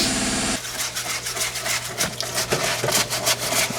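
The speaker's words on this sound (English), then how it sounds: "Air compressor." An air compressor running in a shop while a 6.7 Powerstroke gets a turbo upgrade, a steady low-pitched drone under rapid rattling and scraping.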